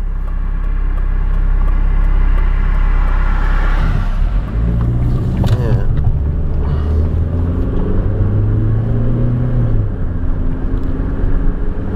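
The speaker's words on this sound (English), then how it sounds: "Here comes the car." A car drives up a hill with a steady engine rumble that shifts in pitch as it passes nearby, the loud drone changing character midway and continuing with rising engine tones, no voices heard.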